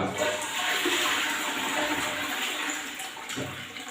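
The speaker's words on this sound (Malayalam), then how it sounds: "ഒന്ന് ഫ്ലഷ് ചെയ്ത് കൊടുത്തു കഴിഞ്ഞാൽ നീറ്റ് ആൻഡ് ക്ലീൻ ആയിരിക്കും ക്ലോസറ്റ്" Toilet bowl being flushed after stain cleaning in a bathroom, a loud continuous rush and gurgle of water lasting several seconds, close and alone.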